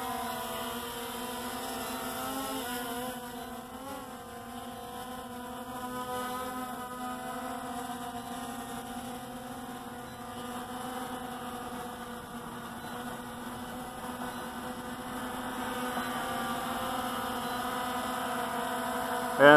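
Small Hubsan X4 Pro quadcopter drone fitted with 3DR Solo propellers, flying on old batteries, gives a steady, fairly faint high buzzing drone with tonal hum throughout, no talk.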